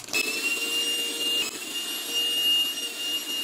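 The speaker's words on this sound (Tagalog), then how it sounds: "May kasama na rin siyang electric pump para din sa vacuum bag." An electric pump runs steadily with a high whine and airy hiss as it draws air out of a plastic compression vacuum bag, close and continuous with no talking.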